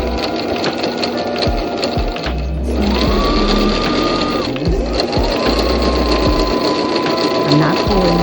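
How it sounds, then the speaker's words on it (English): A sewing machine stitches a straight line on fabric for a no-sew shower curtain project, whirring steadily in two bursts with a brief pause between, while a person speaks over it. "I'm going to first go ahead and just sew a couple of straight lines"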